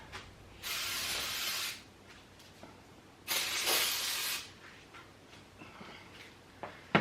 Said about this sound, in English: I'm gonna spray a little bit more brake clean in here